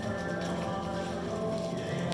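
Horse hooves clip-clop steadily on a narrow, slightly moving bridge during an Extreme Cowboy Association (EXCA) nationals riding competition, a continuous close rhythm of hoofbeats over a humming arena background.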